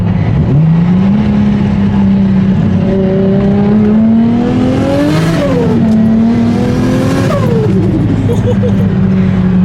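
Turbocharged Nissan S15 engine revving hard through a pull, its pitch climbing and dropping in repeated sweeps while turbo whistle rides over a loud, steady drone; a voice talks briefly over it.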